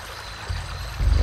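A character wades stealthily through water in a Lord of the Rings: The Fellowship of the Ring video game, with soft low sloshing swells that rise at two points under a constant background wash.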